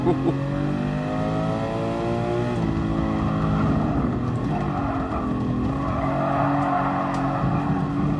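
A Black Series car engine on the Nürburgring drones and revs continuously, its pitch rising and falling, with a rough, crackly edge from popping exhaust throughout.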